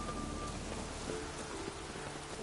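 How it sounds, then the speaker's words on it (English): Steady rain hisses across the whole clip in The Witcher video game, a broad even wash of falling drops with faint tonal game sounds drifting through the background. "Looks like rain."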